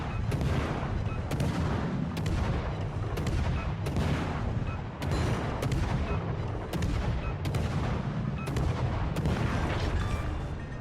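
Ship guns firing in a naval combat video game, a steady rhythm of loud booming shots about every half second over continuous rumbling battle noise.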